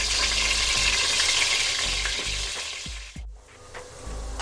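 Potatoes coated in turmeric and salt fry in hot oil for a Bengali mutton curry, giving a loud, steady broadband sizzle with a few light clinks. The sizzle dips briefly near the end, then carries on.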